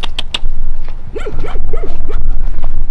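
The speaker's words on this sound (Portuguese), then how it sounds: "os cachorros estão latindo" A few dogs bark in short bursts, a couple of sharp yips early on, then several lower barks, with shuffling noise around them.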